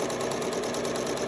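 A sewing machine stitches a row along a homemade six-panel welding cap, a steady rapid mechanical chatter close by that holds an even rhythm throughout, with no voices.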